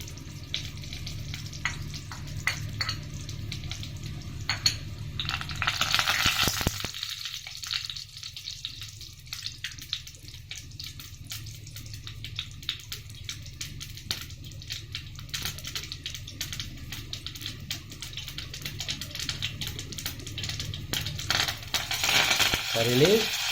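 Mustard and cumin seeds fry in a little hot oil, giving a steady crackling sizzle with scattered popping ticks for much of the stretch, followed by continuous frying noise.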